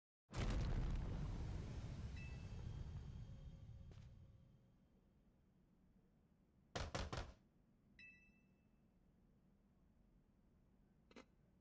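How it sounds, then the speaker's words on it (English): A giant explosion in a video game bursts loudly at the start and rumbles off over several seconds, followed by a few sharp cracking impacts and scattered smaller hits that stand alone. "I don't like that there was a giant explosion."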